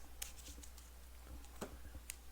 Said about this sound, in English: So we'll just do a quick shuffle there.